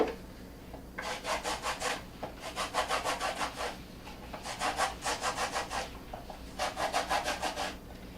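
Zesting a washed lemon for homemade lemonade: close, quiet rhythmic scraping strokes in repeated bursts of rapid rasps, with short pauses between runs.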